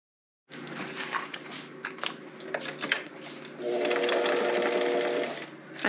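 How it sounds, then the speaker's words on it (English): A sewing machine fitted with a Teflon foot and an all-purpose universal needle stitches vinyl and fabric for a zipper pouch, running in short, clattering bursts and then a longer, steady whirring run, close and clear. "you're going to sew right along that top edge there"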